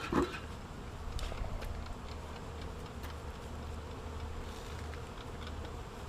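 Bees buzzing steadily during a hive relocation, a dense continuous hum with scattered brief clicks and taps near the microphone, fairly quiet and unbroken throughout, with no talking.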